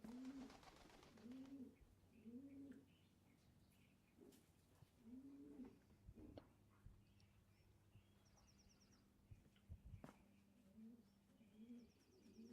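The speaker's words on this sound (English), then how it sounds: "The sound of the pigeon is annoying." Repeated pigeon coos in the video game Blue Prince, soft warbling calls in short bursts separated by pauses, over a quiet low hum with occasional faint clicks and chirps.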